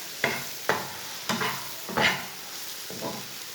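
Tomatoes and green chillies cooking in a pan for an egg curry, with five distinct stirring scrapes and bursts of sizzling at a steady, unhurried pace, close and moderately loud with no talking.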